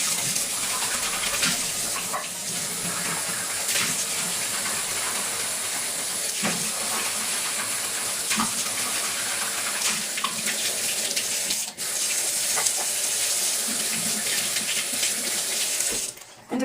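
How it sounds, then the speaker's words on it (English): Tap water runs into a sink to rinse out a container that held liver of sulfur, used for oxidizing a pendant, making a steady splashing stream with occasional spatters and no talking. "I'm going to dump out the liver of sulfur and kind of wash it out."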